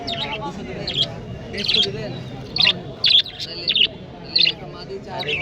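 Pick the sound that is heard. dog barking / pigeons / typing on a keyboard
pigeons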